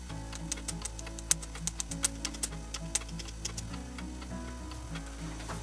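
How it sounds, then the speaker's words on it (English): Small, crisp ticks and clicks as a blade cuts yellow polymer clay into tiny pieces on a hard surface, irregular and close, over a faint steady background hum, with no talking. "And I cut it up in small pieces."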